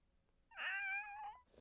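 A single clear, drawn-out cat meow from the video game Shadow of Destiny, about a second long, fairly quiet against near silence.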